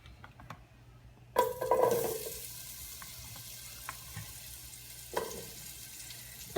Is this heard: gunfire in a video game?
no